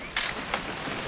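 A camera shutter snaps once in a video game, a crisp sharp click followed by a softer second click, heard over a steady rainy background hiss.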